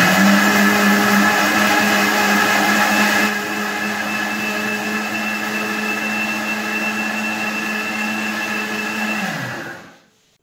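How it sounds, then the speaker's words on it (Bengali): An electric blender grinds lentils into a paste with a loud, steady whir. The motor shifts to a slightly lower, even drone partway through and then winds down to silence at the end. "ডালটা পেস্ট করে নিলাম।"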